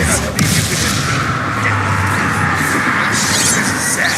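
A Bombarda explosion spell from Hogwarts Legacy, a dense, loud rumbling blast with heavy crashing impacts amid ongoing battle noise, sustained throughout.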